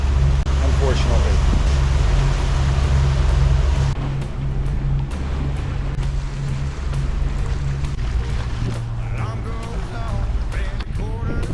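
A sailboat motors under engine power toward a mooring base, with a steady low engine drone and rushing water and wind throughout; the drone steps down partway, and voices talk over it.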